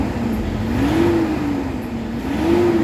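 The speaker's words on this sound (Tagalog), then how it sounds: "Yung galit ng makina," A Toyota Hilux engine with a throttle delay and loss of power revs up close, its note swelling and easing in repeated steady waves with no talk over it.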